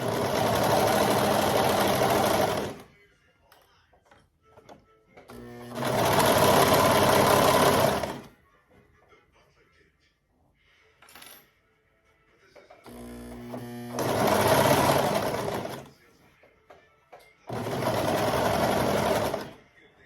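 A sewing machine stitches the crotch seam of a romper in four loud, close runs of steady whirring, separated by quiet gaps with faint handling noise.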